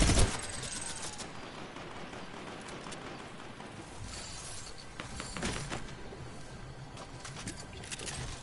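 Shotguns fire repeatedly in a Call of Duty match, a rapid flurry of sharp blasts at the start and scattered bursts later amid chaotic game noise, fairly faint, with no talking.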